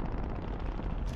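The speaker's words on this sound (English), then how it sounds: "What the hell is that? Grenade launcher." Grenade launcher firing in a shooter video game, a dense, continuous roar of booming blasts and rumbling explosions filling the whole second with no pauses.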